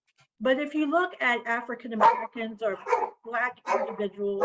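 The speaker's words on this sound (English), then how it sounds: "sorry, that's my dog." A dog barks briefly beneath a person's steady, continuous talking; the bark is short and partly masked by the voice.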